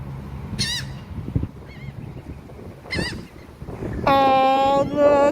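Waterfowl honking near water, a few short nasal calls followed by a longer, louder run of harsh honks toward the end, close by with soft background noise.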